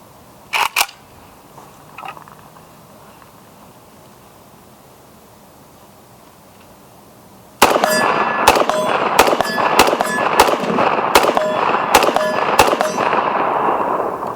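AK-47 rifle shots fired at a target 50 yards away, a rapid series of sharp, loud cracks in quick succession after a quiet stretch with a couple of faint isolated clicks.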